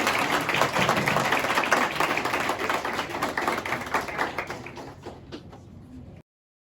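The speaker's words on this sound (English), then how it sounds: "Another hand of applause to them, please." Audience applause for the winning team at a hackathon pitching event: dense, fairly close clapping from a room of people that slowly thins and fades before cutting off.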